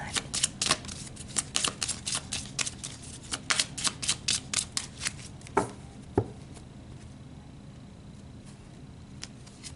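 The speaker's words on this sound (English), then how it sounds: "Let's pull some heart cards here." Tarot cards are shuffled in a quick run of crisp riffling bursts over the first half, followed by a couple of sharper card snaps, then near-quiet with faint room tone.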